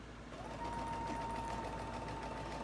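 A sewing machine fitted with a pearl and piping foot stitches piping in a steady, close mechanical whir with a constant rhythmic chatter and a thin tonal hum.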